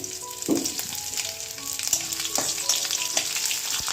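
Bay leaf, whole spice tempering and green chillies sizzling in hot oil, with a steady crackling fry close up, punctuated by a few sharper pops and clinks of utensils.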